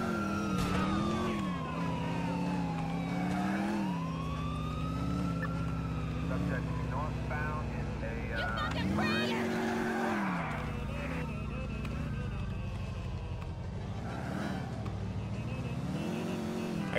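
A car driving and skidding in GTA 4, a steady engine drone with rising and falling pitch, tire squeals and a siren-like wail, under someone talking throughout.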